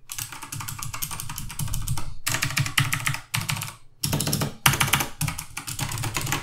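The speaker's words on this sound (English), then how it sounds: "the keyboard I currently have here is the Razer Black Widow Chroma version 2 mechanical keyboard with the Razer green switches, which are loud and tactile" Sustained typing on a Razer BlackWidow Chroma V2 mechanical keyboard with loud, tactile Razer green switches: dense, crisp clicking in bursts separated by short pauses, close and alone.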